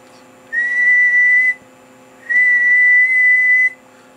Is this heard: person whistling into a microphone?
yes